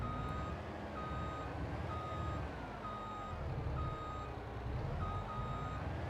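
Truck reversing beeps repeating at a steady rhythm while backing a trailer in Farming Simulator 22, over a low continuous engine rumble.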